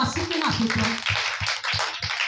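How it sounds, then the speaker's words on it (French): A church congregation claps in praise of the Lord, a run of sharp, rhythmic claps in a regular beat beneath a voice speaking over them. "Applaudis pour le Seigneur."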